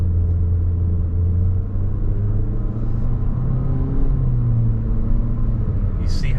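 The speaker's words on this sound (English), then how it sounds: "I'm going to let out of the throttle," A 2020 Infiniti QX50 Edition 30 engine accelerating with turbo lag, a steady low rumble that swells slightly while the car pulls, heard from inside the cabin with no talking.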